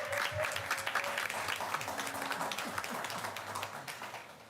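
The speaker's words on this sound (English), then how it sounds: "Let's give Nigel a big round of applause." Applause from a school board meeting audience for the NEA president, a steady patter of many hands at moderate level, fairly quiet and roomy, with faint voices underneath.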